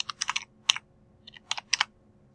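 Someone types a formula on a computer keyboard, with crisp, close key clicks in quick bursts separated by short pauses in a quiet room.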